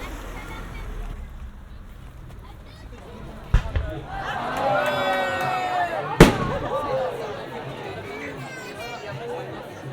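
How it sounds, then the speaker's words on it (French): A fireworks display recorded binaurally produces two sharp, loud bangs with crackling bursts between them, set against a nearby crowd chattering throughout. "je vous ai concocté un petit extrait de ce feu d'artifice"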